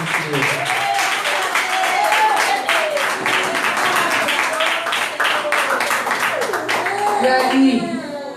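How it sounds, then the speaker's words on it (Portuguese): A church congregation claps during a Portuguese-language sermon, a sustained patter of many hands beneath overlapping voices and shouts. "Aplauda o nome do Senhor."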